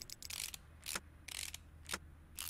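A ratchet in Car Mechanic Simulator 2018 bolts a car part into place with quick, repeated bursts of clicking, about six strokes, close and fairly quiet, with no talking.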